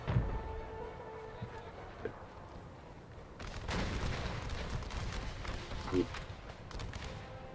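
Cannon artillery fire in an American Civil War strategy game sounds as muffled booms and crackling volleys that swell in the second half, moderately distant and layered over a low battlefield rumble.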